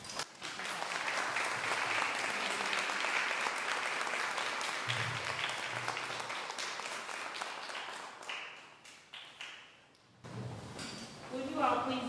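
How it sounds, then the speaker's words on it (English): Dense, sustained applause from an audience at an elementary school clinic ribbon-cutting ceremony, steady for several seconds before thinning into scattered claps, then a brief pause and murmuring voices as the clapping resumes faintly. "Please join me with the round of applause as we welcome Ms."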